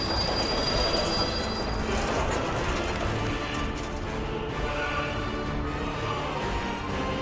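Train cars being loaded in the Workers & Resources city-building game, heard as a steady, loud rail din with squealing wheels and metallic rumble running throughout, no talking.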